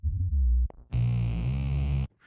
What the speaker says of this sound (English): the bass line is me singing through the microphone, it goes through the effects pedal and gets manipulated to sound like a bass like this